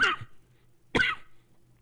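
Two sharp coughs, close by, separated by a brief quiet gap.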